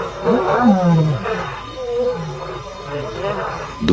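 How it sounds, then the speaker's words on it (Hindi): Lions roar near a river, the deep calls sounding distant and echoing while a voice talks over them throughout. "नदी के आसपास दहाड़ की आवाजें गूंज रही"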